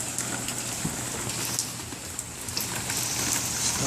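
Rain falling outdoors and pattering onto a table, a steady dense hiss of drops with occasional sharper splashes, continuous and fairly soft, with no talking.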